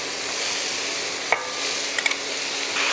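Beef for boeuf bourguignon browning in a pan, a steady close sizzle and hiss with a few light scrapes and clicks of a utensil against the pan.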